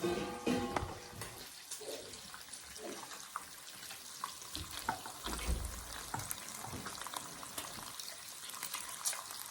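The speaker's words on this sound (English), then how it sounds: "So we're frying it all up." Steady sizzling and crackling of bacon frying in a pan, a continuous hiss with small pops, close by and fairly quiet throughout.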